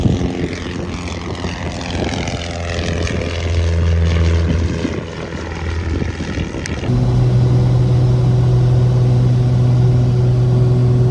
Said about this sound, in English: all these cool planes. All these people taking off.